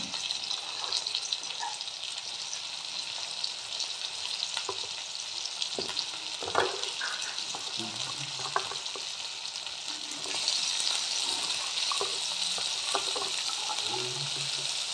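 Onions and mixed vegetables frying in a pan, a steady bright sizzle with occasional stirring knocks and scrapes, growing slightly louder near the end.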